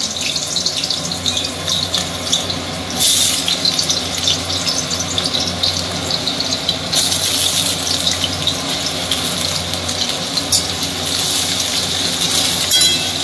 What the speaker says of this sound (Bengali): অল্প তেল দিয়ে আগে আলুটাকে ভেজে রাখবো। প্রথমে আলু ভাজছি